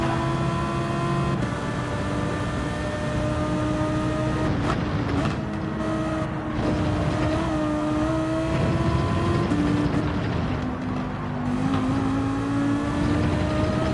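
A race car engine in Gran Turismo 7 holds high revs in a steady, droning whine, its pitch sliding up and down slightly through gear and throttle changes. It plays continuously with no talking over it.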